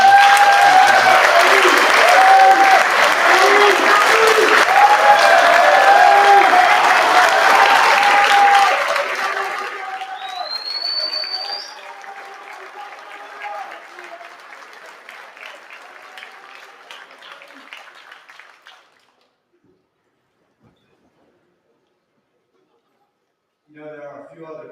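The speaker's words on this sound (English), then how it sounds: "So can we have another round of applause?" At a school athletic awards ceremony, an audience bursts into loud applause mixed with a voice and some chuckling, then the clapping fades to a quieter patter and dies out, leaving near silence before a faint sound at the end.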